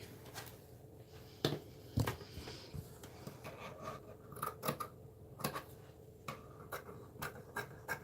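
Scissors snip through fabric while a jumperskirt is being cut out, giving sharp, separate cuts at an irregular pace over a quiet room, and no one speaks.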